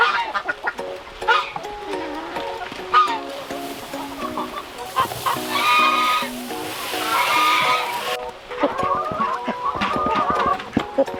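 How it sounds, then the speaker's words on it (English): Several chickens cluck and squawk nearby inside a hoop tunnel in an ongoing chorus, with overlapping calls rising and falling. "he takes care of the chickens in the hot tunnel"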